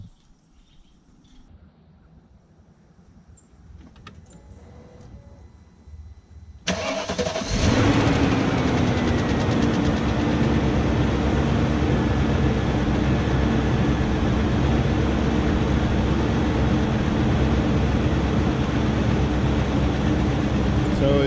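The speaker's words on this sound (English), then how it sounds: "So as you can tell, it runs now since he did the DME work." A 2001 BMW E38 740i being started: a quiet lead-in of faint handling noise, then the engine cranks and catches into a loud, steady idle that runs on evenly, close up.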